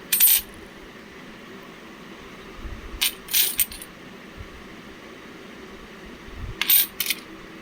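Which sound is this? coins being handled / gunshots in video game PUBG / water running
coins being handled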